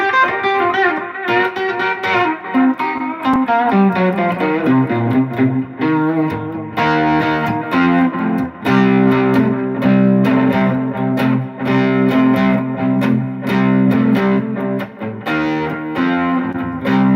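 Electric guitar run through an amp with reverb and distortion plays rock riffs and sustained chords, loud and continuous with rhythmic breaks, during a live-streamed jam.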